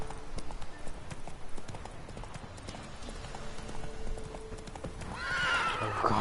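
Horse hooves clip-clop in a steady galloping rhythm in The Witcher 3 video game, with a loud whinny near the end over continuous background noise.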